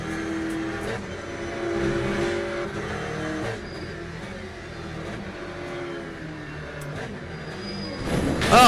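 Porsche race cars in the racing sim Le Mans Ultimate, a steady droning engine note that holds and shifts pitch gradually, with a louder surge at the very end.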